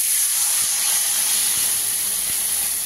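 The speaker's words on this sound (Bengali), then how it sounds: "আমি ঝোলটা ঢেলে দিচ্ছি" Curry broth poured into a hot pan of fish, giving a loud, steady sizzling hiss that fills the whole stretch without a break.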